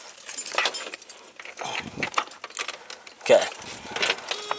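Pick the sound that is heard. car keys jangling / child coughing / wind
car keys jangling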